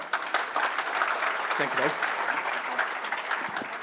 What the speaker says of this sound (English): Can you give them a round of applause for helping out?